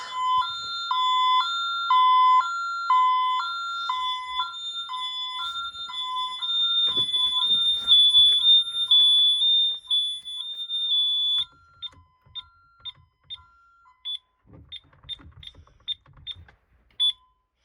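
A Honeywell Vista 15P home security alarm sounds in a house: a loud, shrill electronic tone pulsing in a repeating pattern, then shorter beeps with handling noises between them, and no talk.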